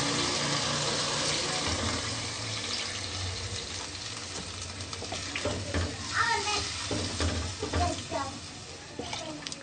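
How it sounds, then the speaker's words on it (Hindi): Water poured into a pot of sizzling mutton and potatoes for degi aloo gosht, the frying hiss giving way to splashing and bubbling, with a low hum of cooking and talk in the background. "अब हम इसमें 3 गिलास पानी शामिल करेंगे।"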